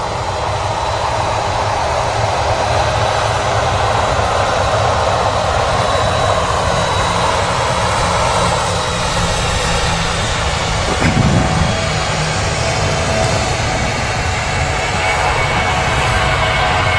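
Steady, loud jet roar from a Boeing 737 spooling up its engines at Manchester Airport, a continuous broadband rumble holding for the whole stretch with a faint thump partway through.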